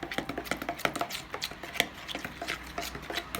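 Spices being stirred and mixed into a sauce for oven-baked chicken, heard as a steady run of light, quick scraping and tapping strokes against a bowl, close by and fairly quiet, with no talking.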